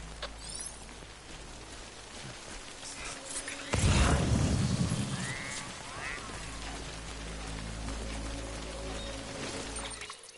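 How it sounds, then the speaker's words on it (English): Rain falls in the video game Death Stranding as a steady hiss, swelling into a louder wash of downpour midway and then settling back into a constant patter. "Good thing it was raining."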